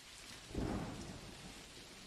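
Rain and a deep, low rumble of thunder from a game engine's weather system, steady hiss of rainfall with a soft thunder swell building in the middle, faint and distant.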